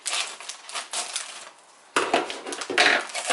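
Frozen shredded hash brown potatoes from a two-pound bag tumble into a dish, a close rattling, crunchy clatter in two bursts separated by a short pause.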